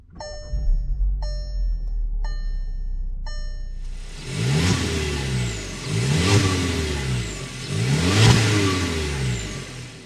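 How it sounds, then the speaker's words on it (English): A few chimes ring inside a 2023 Volkswagen Jetta SE before its turbocharged engine starts, then the exhaust note swells in three separate revs, each one rising and falling back, heard close up. "start it up so you can hear that exhaust note."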